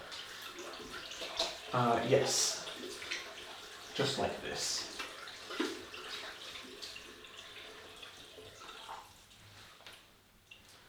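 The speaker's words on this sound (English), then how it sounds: "you can do all these exercises under the running of the warm water" Warm water runs from a tap as a soft, steady splash with brief louder gushes, heard beneath a person talking.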